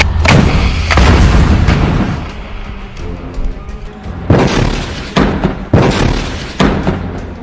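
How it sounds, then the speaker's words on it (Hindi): Rockets slam into and blow apart an Israeli Merkava tank in a Hamas-fired attack: a string of heavy booming blasts and thuds, several loud explosive bursts spread across the span with rumbling debris between them. "इसके बाद फिर से इस टैंक के ऊपर पीछे से एक और रॉकेट फायर किया जाता है"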